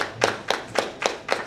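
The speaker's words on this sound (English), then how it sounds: "Round of applause." Five evenly spaced claps ring out at a business industry forum as a speaker takes the stage, each one sharp and moderately loud, with short quiet gaps between them.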